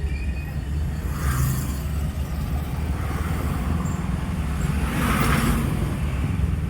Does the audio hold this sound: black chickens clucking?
no